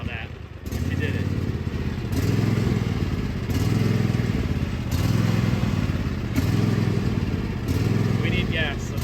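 A lawn mower engine runs steadily and loudly, surging in a repeating rise and fall about every one and a half seconds, close by with no talking.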